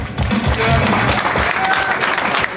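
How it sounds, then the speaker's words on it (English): Comedy club audience applauding a comic, a continuous burst of clapping with a voice talking over it near the start. "Please everybody give it up for Arif Hussain"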